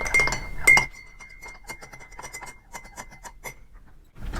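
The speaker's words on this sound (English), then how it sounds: "Stir properly." A spoon stirs an immune booster drink made with garlic and lemon juice in a glass, giving a quick run of light, repeated clinks and taps against the glass, fairly close and with no talk.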